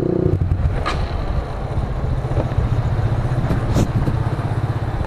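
A Sonic 150R motorcycle engine fitted with a BRT Juken 5 racing ECU runs close by, with a rough, throbbing idle and brief revs heard alone.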